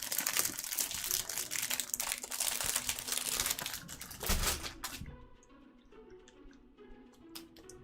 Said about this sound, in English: And you guys get to hear the crinkling.